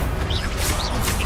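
A Confringo fire blast spell is cast in the video game Hogwarts Legacy, giving a loud, dense burst of crackling impact and whooshing noise that fills the whole moment.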